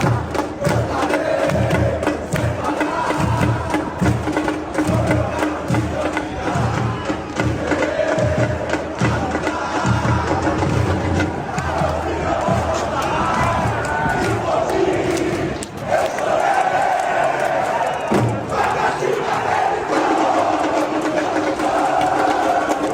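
Barra brava football supporters in Brazil's northeast, an alvirrubra crowd, chanting loudly in rhythm with steady drumming thumps underneath, dense and continuous throughout.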